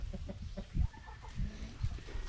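Farm chickens clucking close by in short repeated bursts, a few overlapping calls rising and falling, with a faint high tone in the background and no talking.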